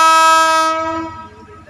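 A loud, sustained multi-tone train horn blares close by, then fades out over about a second as rumbling rail noise continues underneath.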